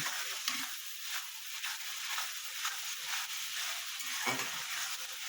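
Spice masala being stirred and sautéed in a pan, a quiet continuous sizzle with occasional low scraping knocks from the spoon, no talking.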